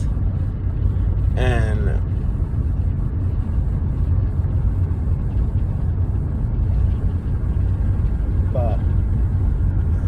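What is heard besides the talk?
car driving past a cemetery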